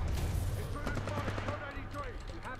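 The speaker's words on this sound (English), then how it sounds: "Why are you guys shooting at a bulletproof window?" Rapid automatic gunfire against a bulletproof window in the video game Titanfall 2, a dense, continuous rattle of shots with metallic pings, loud and close, under a low steady drone with voices mixed in.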